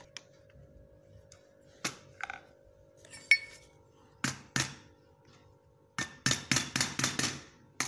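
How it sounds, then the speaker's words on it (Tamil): A screwdriver taps a pin loose on a broken jacquard loom cylinder, giving sharp metallic clinks, first scattered single hits and then a rapid run of close, ringing taps near the end. "ஒரு தட்டி இந்த மாதிரி ஸ்க்ரூ ட்ரைவர் போட்டு ஒரு 2-3 தட்டு அந்த பக்கம் இந்த பக்கம் தட்டினோம்னா ஃப்ரீ ஆயிரும்"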